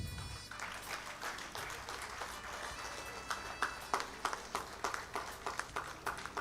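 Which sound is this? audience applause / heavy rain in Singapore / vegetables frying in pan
audience applause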